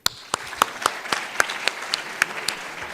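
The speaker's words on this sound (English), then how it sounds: "Let's clap for Yemen." Sparse, uneven claps from a small audience at a closing conference session, roughly a dozen distinct hand claps spread over a few seconds, fairly close and crisp over a quiet room.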